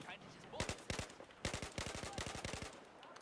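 Battlefield 4 weapon fire on the Lost Islands naval map: several sharp bursts of rapid automatic shots, loud and close, with short gaps between volleys.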